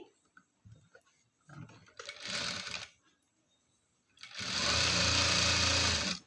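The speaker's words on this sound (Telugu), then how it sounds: "ఇలా ఒక టాప్ స్టిచ్ వేసేస్తానండి నేను" A sewing machine runs a top stitch along fabric piping, with a short burst, a pause with handling noises, then a longer steady whirring run close to the microphone.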